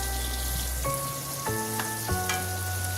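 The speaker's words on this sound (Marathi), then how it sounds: "पाच मिनिटं मी हा कांदा असा चांगला परतून घेतलेला आहे।" Onion sautés in a pan for dhaba-style dum aloo, a steady close sizzle and hiss with soft stirring scrapes and no talking.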